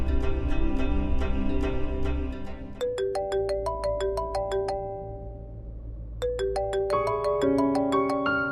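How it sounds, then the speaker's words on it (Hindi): A phone's melodic electronic ringtone plays, bright chiming notes repeating in a pattern, loud and close, with no talking. "तुम बिल्कुल ठीक कह रही हो शर्लिन, मैं अभी डॉक्टर को फोन करके अपॉइंटमेंट लेती हूँ।"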